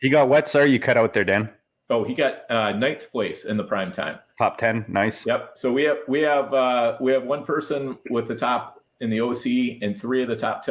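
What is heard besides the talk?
No distinct noise like a dog, phone or traffic.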